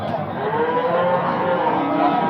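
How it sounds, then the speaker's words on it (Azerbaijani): A bull calf at the Barda cattle market gives one long, loud, drawn-out moo close by, carrying steadily over the market's background bustle. "Bordağa gedən danalardır."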